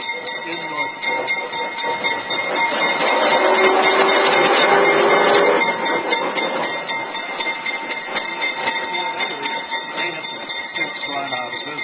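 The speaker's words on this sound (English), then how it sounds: "you're going to see in our diesel parade locomotives from 6 different locomotive manufacturers" Diesel locomotives rolling past in a parade, with a steady rumbling drone that swells to a louder pass in the middle and then settles, tonal hums running throughout.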